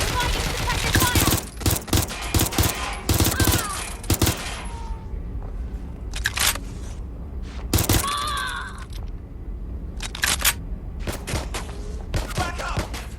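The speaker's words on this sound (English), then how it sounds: "Providing suppressive fire!" Sustained gunfire in the Watch Dogs Legion video game, loud rapid bursts and sharp shots over thirteen seconds with brief lulls, mixed with shouted character voices.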